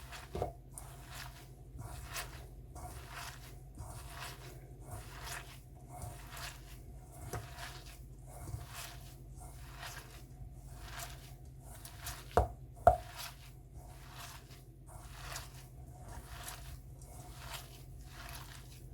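Soya mince meatball mixture is squished and kneaded by hand in a bowl, giving a steady run of soft wet squelches at a regular rhythm, close and fairly quiet, with a couple of sharper clicks near the end.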